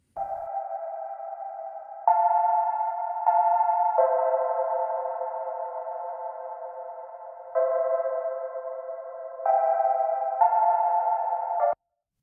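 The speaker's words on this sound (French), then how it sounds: "vous voyez, une énorme reverb." A sustained, voice-like tonal source soaked in an enormous reverb within a music mix. It holds steady pitched notes that step up and down for about twelve seconds, then cuts off abruptly.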